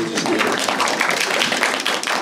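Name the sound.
audience applauding at a film screening talk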